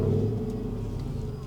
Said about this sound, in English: So we'll start the car